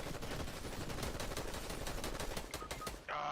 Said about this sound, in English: this gun does not shoot straight